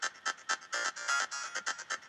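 A GarageBand synth lead set to a buzzy pluck tone plays a quick run of short, bright staccato notes with a few held ones, fairly quiet and alone.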